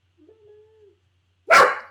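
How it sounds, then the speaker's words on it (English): A dog lets out a single loud, close bark at the end, after a soft steady whine or hum earlier on. "Hold please while the dog barks."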